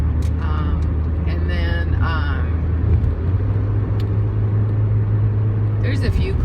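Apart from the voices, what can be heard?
truck and cars driving past on the road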